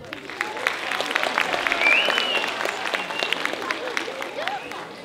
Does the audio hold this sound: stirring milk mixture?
no